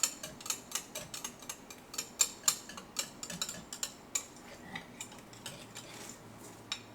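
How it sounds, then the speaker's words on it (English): Whisk clinking rapidly against a bowl while stirring thick chocolate cupcake batter, a quick irregular series of sharp metallic taps, close and fairly quiet. "We're going to whisk that in."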